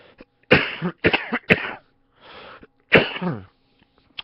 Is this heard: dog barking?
no